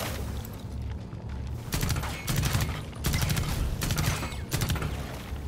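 Gunfire in the video game Rainbow Six Extraction, aimed at opening anchor points, comes in several short rapid bursts separated by brief pauses, moderately loud, with faint talk beneath.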